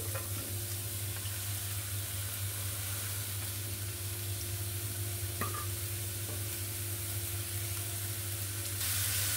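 Chopped onion frying in a pan for egg bhuna gives a steady, continuous sizzle with a constant hiss, close and even throughout, with a faint scrape midway and no talk.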